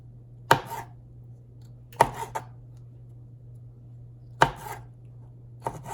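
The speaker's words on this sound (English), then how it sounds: "Okay, so I've chopped up all the cherries" A knife chops cherries on a board in quiet, separate knocks, four main strikes with small follow-up taps, against a faint steady hum.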